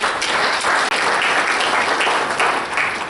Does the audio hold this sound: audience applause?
yes